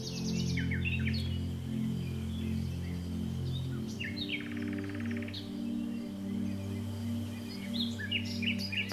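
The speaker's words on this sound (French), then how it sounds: "On entend un peu le bruit des oiseaux." Birds chirp and sing outdoors during a yoga session, with repeated short trills and calls at moderate distance over a steady low hum, and no talk.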